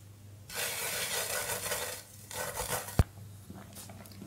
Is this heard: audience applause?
no